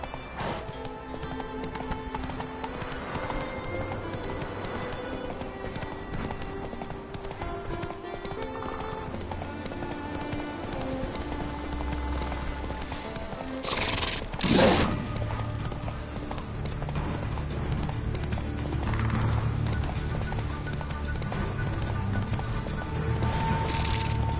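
Hooves of Roach, the horse from The Witcher, clip-clop steadily in a galloping rhythm over a layered game soundscape, with a whinny-like burst partway through and a rougher, busier texture toward the end.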